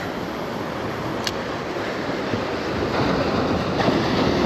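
Ocean surf washing steadily onto a beach at Exmouth during land-based fishing, a broad continuous roar of waves and wind that swells slightly louder toward the end, with no voices.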